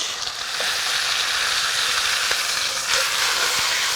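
Large cut of beef for pot roast sizzling in a hot pot as it is turned, a steady loud hiss and crackle with a few small pops, no talking.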